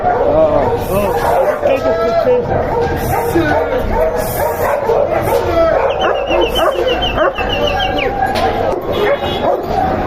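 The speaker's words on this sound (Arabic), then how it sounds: "ده جرو ارمانتي" Several dogs, including an Armant puppy, bark and yip amid loud, busy crowd chatter at an outdoor animal market, with puppy-like whimpers mixed into the steady background noise.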